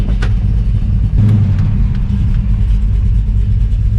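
A 1968 Chevelle with a refreshed LS6 454 engine rumbles loudly and steadily while driving, its deep low exhaust drone continuous throughout with a slight surge partway.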